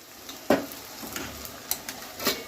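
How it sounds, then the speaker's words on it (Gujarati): A spoon stirs bean khichdi (Khambhaliya-style val khichdi) in a cooking pot, giving a few soft scraping strokes and one sharper knock against the metal, fairly close, with a light sizzle underneath and no talking. "હવે આપણે એને હલાવવાનું છે."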